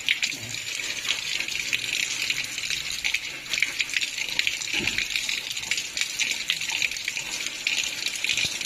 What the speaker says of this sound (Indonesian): berikutnya kita siram pakai air